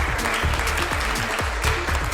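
An audience at an awards ceremony applauds Himanshu Jhunjhunwala, dense sustained clapping from many hands, loud and close, with speech faintly underneath.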